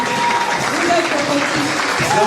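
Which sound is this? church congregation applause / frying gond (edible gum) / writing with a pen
church congregation applause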